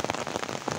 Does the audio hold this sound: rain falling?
yes